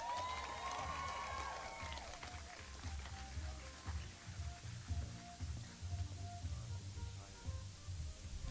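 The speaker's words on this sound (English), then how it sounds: "please give a very warm round of applause for our leader, our friend, our guide" An audience applauds at an evening gathering after a leader is introduced, with steady, fairly distant clapping and crowd noise lasting throughout, plus a brief voice or tone at the start.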